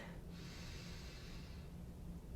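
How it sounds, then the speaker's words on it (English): Slow inhalation through the nose during an at-home yoga routine, a single steady breath drawn in for about a second over a faint low hum, with no talking. "Breathing in"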